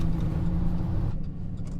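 Low, rumbling exhaust from a 400-horsepower Chevy Tahoe V8 with a faulty engine while driving, a close steady growl that softens noticeably near the end.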